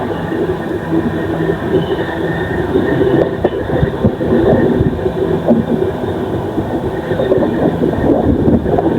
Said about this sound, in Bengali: ট্রেন এবার লখনউতে আসছে, মাঝে মাঝে একটু স্লো হয়ে যাচ্ছে